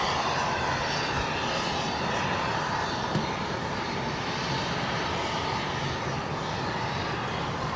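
A McDonnell Douglas MD-11 jet, its engines producing a dense, continuous roar at steady loudness throughout, close and without voices.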